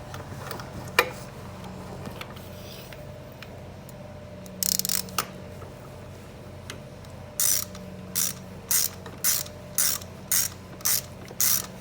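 A ratchet turns a spark plug down into a 2002 Toyota 4Runner's plug well, giving a close, crisp series of rapid clicking bursts that come faster and evenly spaced toward the end, with faint isolated clicks earlier.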